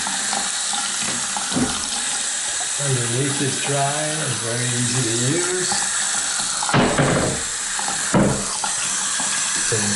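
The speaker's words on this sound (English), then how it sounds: "So we'll turn on the hot water there, and again we just turn on the hot water." Hot water runs from a bathroom sink tap in an apartment, a bright, steady splashing stream filling the whole span, while someone talks over it partway through.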